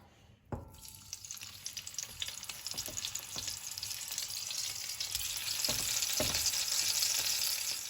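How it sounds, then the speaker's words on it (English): Lamb shanks brown in hot oil in a pan over medium-high heat, a sizzle that starts with a sudden burst as meat hits the pan and then builds into a steady, loud hiss. "Just going to add some oil in there and then start browning the shanks off in batches."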